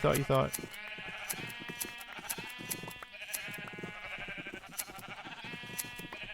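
Repeated sheep bleats from Minecraft rise over a busy game soundscape, several calls scattered across the clip, with a person talking underneath throughout.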